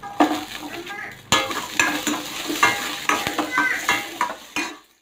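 Shallots and garlic fry and sizzle in a pan for a tomato chutney, with repeated stirring scrapes and light clinks of a utensil against the pan at a close, steady rhythm.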